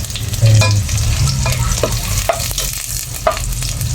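Adobong sitaw at kalabasa, string beans and squash, being stir-fried in a pan: a steady close sizzle with light scraping and stirring clatters scattered throughout, and no talking.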